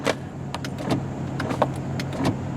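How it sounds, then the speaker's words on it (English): A 2001 Dodge Durango power window motor whirs steadily at low volume, with faint clicks and ticks scattered over the hum. "We'll do the power windows first."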